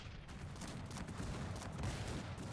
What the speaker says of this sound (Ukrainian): Гарматки хай стріляють.